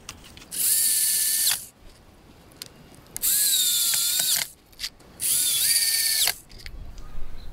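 Power drill driving screws through wooden sticks to reinforce a worm composting bin, heard as three loud, steady whirring bursts of about a second each with short pauses between them.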